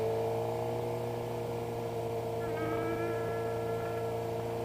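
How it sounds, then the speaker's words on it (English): A Suzuki GSX-R750 motorcycle engine drones steadily throughout, even and close, with a faint higher whine rising briefly near the end. "The bike makes its own noise"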